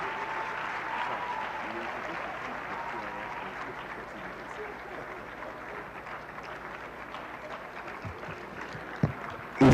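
An audience gives Professor Fidelis Odita a sustained round of applause at a law alumni colloquium, a dense even clatter of many hands that fades slightly before a couple of sharp knocks at the end.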